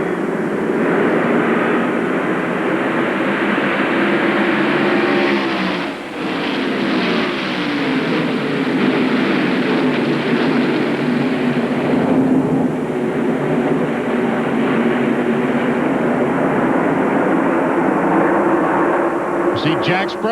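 A pack of NASCAR Craftsman trucks roars away at the start of a 1997 race at California Speedway, a loud, sustained engine drone that swells and holds throughout, with a race commentator talking over it.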